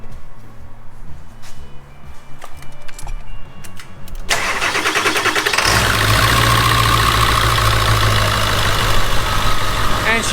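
A 1999 Ford E350 turbo diesel cranks and fires up, settling into a loud, steady diesel idle close by after a stretch of quieter shop noise.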